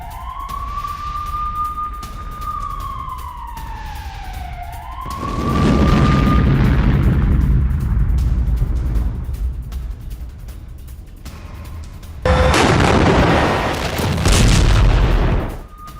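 Loud, deep rumbling blasts from a strike on a Buk M3 anti-aircraft missile system hit twice, each a heavy booming roar; a rising and falling wailing tone sounds before the first.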